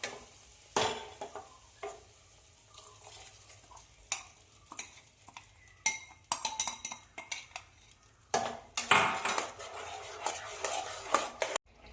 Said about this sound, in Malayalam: ഒന്ന് ഇളക്കി യോജിപ്പിക്കാം.